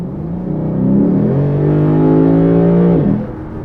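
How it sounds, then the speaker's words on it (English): A single close, loud engine rev from a 2019 Lexus RC F sports car exhaust, rising to a sustained throaty roar for a few seconds before dropping off. "that sounds so good. I hope it's not manufactured exhaust"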